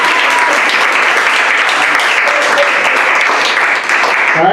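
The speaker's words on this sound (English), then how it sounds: "Give you guys a hand of applause for participating." Loud, dense audience applause from a group of participants, sustained clapping at a steady level throughout with a brief dip near the end.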